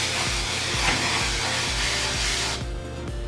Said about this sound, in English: I'll spray one side and then when it goes back